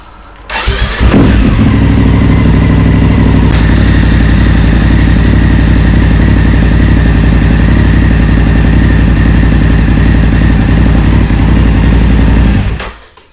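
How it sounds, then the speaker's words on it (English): BMW F750GS motorcycle engine starting and then idling steadily in neutral, a loud, even mid-pitched rumble running for about twelve seconds before shutting off. "We'll start the bike back up, let it idle, 10 seconds in neutral, 10 seconds in each gear"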